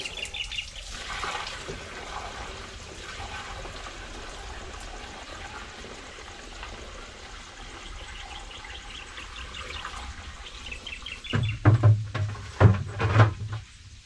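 Water pouring and splashing into a sprayer tank on a farm plot, a steady rushing flow that grows louder and more turbulent with gurgling bursts near the end.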